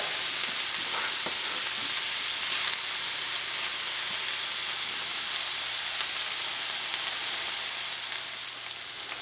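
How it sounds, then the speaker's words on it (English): Onions and other vegetables sauté in a pan, giving a steady, close, even sizzle and hiss that holds throughout without a break and without any talk. "So we're going to cook this up for a few minutes, probably about 3 to 5 minutes till our onions are translucent."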